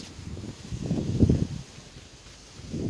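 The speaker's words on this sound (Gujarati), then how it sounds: "આ પવન તો જો ફૂંકાય છે જોર જોરથી" Gusts of wind buffet the microphone in rough, swelling bursts on a farm, rising loudly in the middle and again at the end, with leaves rustling.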